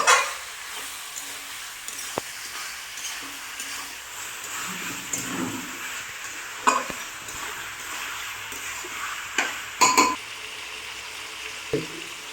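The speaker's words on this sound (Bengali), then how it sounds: "মাংস ধোয়ার পরে এটাকে বারবার নাড়তে হবে যাতে তলায় না লেগে যায়।" Chicken being stirred in a pan for chicken kosha with potatoes, a steady scraping and sizzling close up with occasional sharp clinks of the utensil against the pan.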